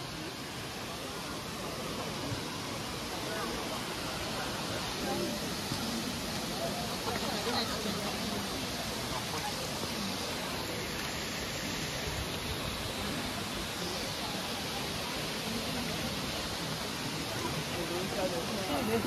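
A waterfall gives a constant, broad rushing roar that never lets up, filling the whole scene at an even level.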